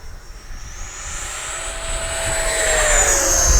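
E-flite Viper 90mm electric ducted-fan RC jet flying at half throttle, a steady whining rush that drifts in pitch and slowly grows louder as it passes overhead outdoors.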